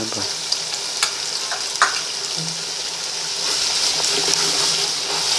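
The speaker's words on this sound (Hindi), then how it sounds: "डालेंगे अदरक लहसुन पिसा हुआ" Tomatoes with ground ginger and garlic sizzle steadily in a hot pan for mutton biryani while a utensil stirs and scrapes, with a few sharp clinks, continuous and close.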